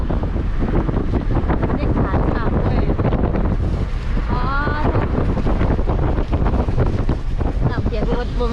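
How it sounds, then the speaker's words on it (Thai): Steady, heavy wind roar with a broad wash like rain during Storm Noul, filling the whole stretch at constant loudness, with faint voices mixed in. "ทั้งลมทั้งฝน"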